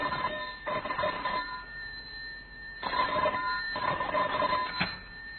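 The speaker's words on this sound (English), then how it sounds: "The next afternoon, the telephone rang in John Davis's office." An old-fashioned telephone bell rings in several bursts with short pauses between them, loud and close, in a vintage radio crime drama set in an office.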